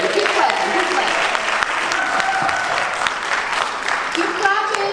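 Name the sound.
audience clapping, applause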